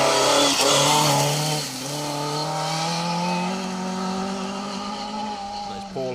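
A damaged rally car, car 89 with front end damage, drives through a stage, its engine droning loudly with rising and falling pitch as it passes, with a commentator talking over it.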